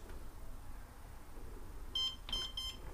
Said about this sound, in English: press and hold for 3 seconds until the lock beeps